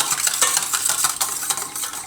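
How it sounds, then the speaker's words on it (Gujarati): A spoon stirs a thick tandoori cauliflower mixture in a bowl, a steady busy scraping with repeated quick strokes, close and fairly loud, with no one talking. "ઝીણીથી કરી શકો તમે અને ગમે એ ચમચી લઈને ફેરવો તોય થઈ જાય"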